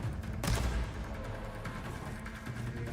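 Gunfire in the Horizon Forbidden West Burning Shores video game comes as a dense, booming burst followed by a rumbling battle mix of thuds and blasts, loud and continuous.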